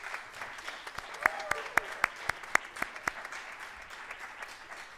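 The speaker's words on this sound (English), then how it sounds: "Please join me in a big round of applause." Sparse applause from an audience at a student leadership awards ceremony, a handful of distinct claps standing out in a soft, scattered patter that fades over a few seconds.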